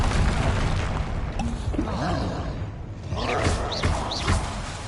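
A Confringo blasting spell from the Hogwarts Legacy video game bursts with booming thuds and pops amid swirling magical whooshes, layered over game music and effects.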